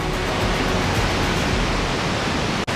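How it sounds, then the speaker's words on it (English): Bighorn Falls, a waterfall in David Thompson country, Alberta, roars as a loud, steady broadband rush of falling water heard up close, continuous throughout with no voices. "this is another gorgeous waterfall you can find in David Thompson country"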